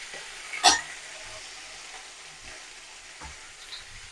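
Potatoes and pumpkin pieces being stirred as they fry in a pan, a soft sizzle under a few spoon scrapes and knocks, one sharp clatter early on, close and fairly quiet.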